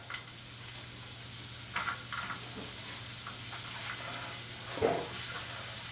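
Onions sautéing in a pan for a vegetable lasagne topping, a steady close sizzle and hiss with brief stirring clatters and one sharper scrape near the end.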